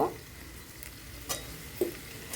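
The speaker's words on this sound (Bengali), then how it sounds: "এবার সব কিছু একসঙ্গে ভালো করে কষিয়ে নেব।" Spices frying with plantains and potatoes in a pan, a low steady sizzle with a few brief stirring scrapes and clinks, close and fairly quiet.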